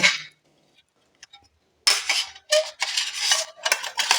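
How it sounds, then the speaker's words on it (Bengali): Quartered papaya being scraped for a papaya and lemon chutney, a short scrape at the start, then after a pause a run of dense, close scratchy strokes with faint clinks, no talking. "পেঁপে এবার আমি এইভাবে পেঁপেটাকে কুড়ে নেব"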